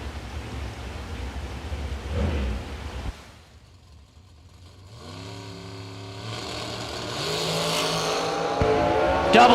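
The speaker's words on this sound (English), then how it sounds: "The GNS Dyno 2009 A and E dragster entry." An A and E dragster, the GNS Dyno 2009 entry, runs at a Cedar Falls drag strip event. A broad roar dips briefly, then climbing engine tones swell louder toward the end.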